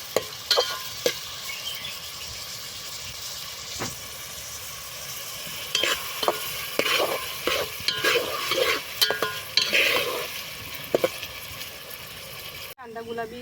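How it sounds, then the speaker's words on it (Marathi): Onion frying in a pan on a wood-fired clay stove for Kolhapuri misal: a steady, close sizzle runs throughout, with scraping stirs and clinks of a spoon against the pan. "कांदा आपल्याला गुलाबी रंगावर होईपर्यंत भाजायचा आहे व्यवस्थित"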